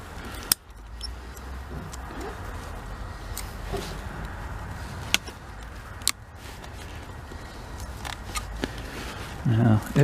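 Scissors snip a dead piece off a field maple bonsai trained as a fused triple trunk, giving a few sharp, close clicks spread over a quiet, steady background.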